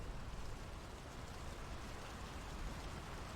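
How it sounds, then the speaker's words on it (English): Steady rain falls in the video game Draugen, an even, hissing wash of drops with no breaks, moderately loud and unbroken by any voices. "The rain's picking up."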